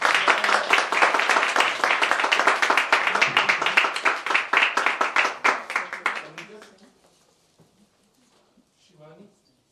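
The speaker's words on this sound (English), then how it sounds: "Big applause." Applause at a Hindu temple event in St. Louis: dense, loud clapping from an audience that runs steadily for about six seconds, then tapers off into near silence with a faint murmur at the end.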